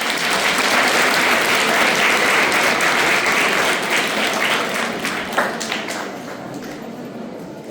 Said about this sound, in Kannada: ಇದಕ್ಕೆ ಚಪ್ಪಾಳೆ ಹೊಡೆಯಬೇಕು.